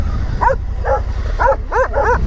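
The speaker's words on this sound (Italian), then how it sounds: "Abbaiano solamente." A dog yips and barks in short repeated bursts, nearby, over a constant low rumble in the background, in rural Basilicata, Italy.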